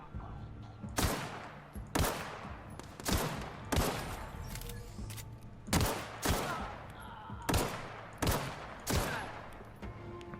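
Gunfire in the video game The Outer Worlds, a string of about nine loud, sharp single shots at irregular one-second intervals, each with a short decaying tail.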